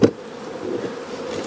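Honey bees buzz steadily and close up in an apiary at a ranch while feed is being put on the hives, with a brief knock at the start.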